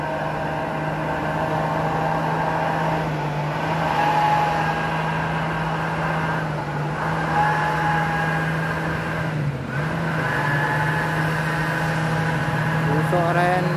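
An orange 6x2 tanker truck carrying about 31 tons labors uphill on a climb, its engine droning at a steady low pitch with small pitch dips, loud and continuous from inside the cab.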